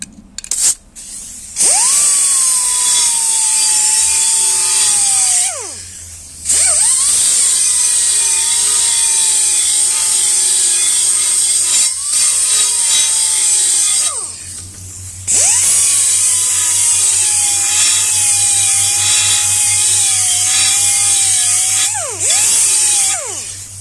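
A power tool deburrs freshly cut metal edges while building a landscaping tamper, making a loud, high, steady whine in long bursts, each rising and falling in pitch as it bites and eases off, with brief pauses between passes.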